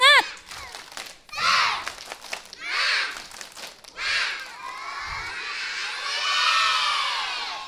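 Kindergarten children at a school event perform a spirit clap chant together, with rhythmic bursts of group clapping and high shouted chanting, close and lively, ending in a longer cheer-like shout.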